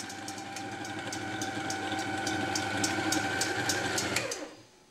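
An electric mixer whirs steadily at close range while beating egg whites for a saffron semifreddo, its motor drone holding a constant pitch before cutting off near the end.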